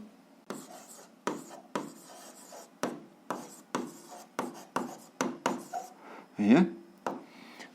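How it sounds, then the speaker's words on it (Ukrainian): A pen scratches out the answer by hand to a seventh-grade algebra exercise on systems of equations, in a steady run of short, close scratchy strokes with brief pauses between them. "записуємо відповідь, пишемо відповідь"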